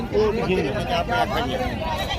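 Rajanpuri dairy goats bleat at a large livestock market. Short bleats rise out of a steady crowd babble, with people talking close by the whole time.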